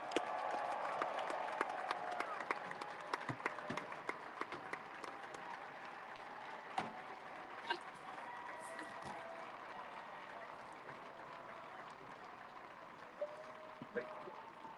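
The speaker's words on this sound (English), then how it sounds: "a round of applause for all the guys here" Outdoor crowd applause for the strongmen at the World's Strongest Man Atlas Stones final, a steady distant wash of clapping and cheering with sharp scattered claps, likely rain noise mixed in, and faint voices underneath.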